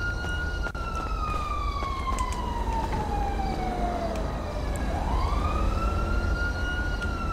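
A police siren wails steadily in GTA V, its pitch sliding down then sweeping back up, loud and continuous over a low engine rumble from a Charger police car.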